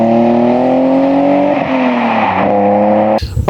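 A restored BMW E30 with a swapped-in M52B28 inline-six drives on a road, its engine note loud and steady with a slight rise and fall, then cut off abruptly near the end.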